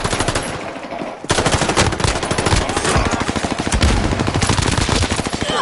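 Rapid automatic gunfire in a first-person shooter video game rattles nonstop and loud, a dense chain of shots with a brief pause near the start and no talking.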